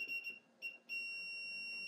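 A circuit breaker tracer receiver beeps at an electrical panel: two short high-pitched beeps, then a steady, sustained tone, clear and close.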